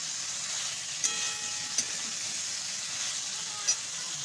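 Food sizzling in a frying pan, a steady hiss of oil with a few faint pops and clinks scattered through, moderately close and without voices.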